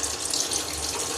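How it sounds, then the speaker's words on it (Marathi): Running tap water pours steadily over bitter gourd pieces in a kitchen, rinsing them after they were coated with turmeric, salt and lemon; a continuous close splashing stream with no talk. "आता पाणी टाकून धुवून घेते ना."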